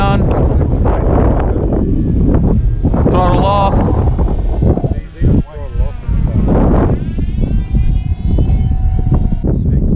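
A Reptile S1100 FPV wing sweeps past with its throttle cut, a rising then falling whoosh and fading motor whine amid microphone wind, while a person talks over it.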